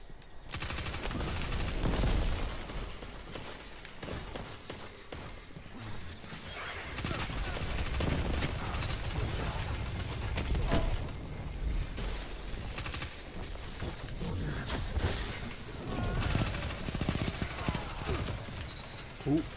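Rapid submachine gun bursts in Destiny 2 crackle through a dense, loud firefight, with shots overlapping almost continuously and mixed with other weapon fire and game effects.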